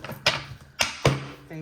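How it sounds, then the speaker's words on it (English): A deck of tarot cards being shuffled by hand: three or four sharp, close card slaps and riffles spaced apart, with a brief voice at the end. "Let me hit a quick shuffle."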